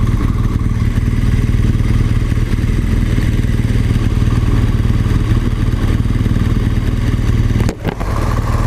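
A BMW R1200GS TE twin-cylinder motorcycle cruises at constant revs at 70 mph with a loud, steady engine drone and wind rush, broken by a brief dip near the end.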